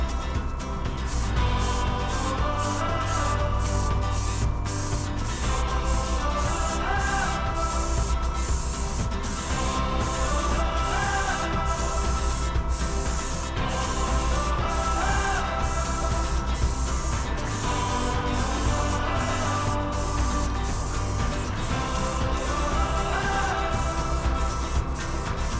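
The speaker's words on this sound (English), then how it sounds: "Getting a nice even spray here" A Copic airbrush system sprays paint onto a 1946 Chevy truck, a steady close hiss that holds throughout with regular rhythmic ticks, under a faint background tone.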